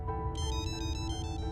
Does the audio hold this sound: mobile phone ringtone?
yes